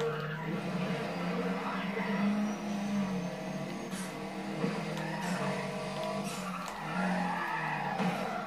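Tires skid and squeal as a car spins out in the racing video game Need for Speed ProStreet, a continuous screech over a steady engine roar that lasts the whole stretch.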